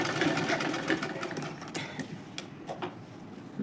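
A sewing machine stitches a wave stitch in a fast, steady mechanical whir that eases off toward the end, with a few clicks, heard close and without talk.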